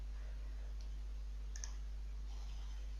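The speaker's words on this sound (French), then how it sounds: "Je clique sur OK." A computer mouse clicks during software work, a quick double tick near the middle against a steady electrical hum, close and fairly quiet, with no voices.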